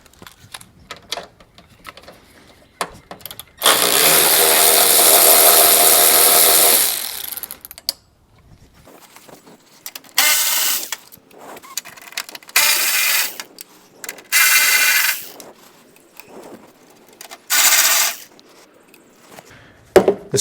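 Someone removes the 7 mm fasteners holding the grille of a Chevy/GMC 6.5L diesel truck with a tool, making several loud bursts of rapid mechanical clatter, one long and the rest shorter, separated by pauses.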